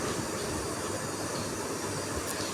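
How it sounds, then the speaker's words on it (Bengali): Spices tempering in hot oil for a red lentil dal with drumsticks, giving a steady, dense sizzle and hiss that holds at an even level throughout, close and continuous with no talk. "তো এবার ফোড়ন দিয়ে দিলাম।"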